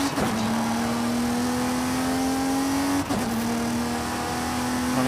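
A car engine revs hard during a race in Forza Horizon 5, a loud, close, rising whine that climbs steadily, drops sharply at a gear shift, then climbs again, with no voices.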